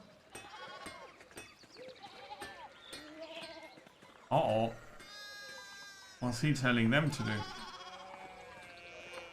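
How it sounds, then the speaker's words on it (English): Repeated sheep bleats, some loud and wavering, alternate with a person talking over game-like background sounds from the video game Pentiment, with sheep blocking the way through town. "And they're blocking the place with sheep."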